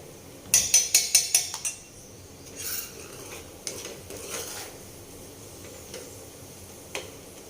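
A whisk beats an onion batter in a bowl for a homemade vegetable dish, starting with a quick run of about six bright metallic clinks, then softer scattered scrapes and taps, close and fairly quiet with no speech.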